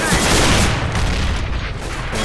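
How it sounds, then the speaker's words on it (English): A dense, roaring burst from a flashbang grenade in Counter-Strike: Global Offensive fills the space loudly and evenly, then slowly tails off over about two seconds, with no voices. "Deploying flashbang."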